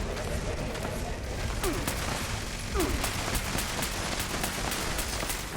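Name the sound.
gunfire in Fallout 76 video game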